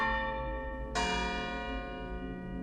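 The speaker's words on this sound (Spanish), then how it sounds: "el sonido agudo y penetrante de una campana rompió el tranquilo silencio" A bell rings once with a sharp, clear strike in a horror story set at a cemetery, followed by a long ringing decay that fades slowly, loud and close with no voices.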